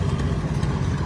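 A 1949 Ferguson T30 tractor idles in a steady, close mechanical rumble as it rolls past in an antique power show parade.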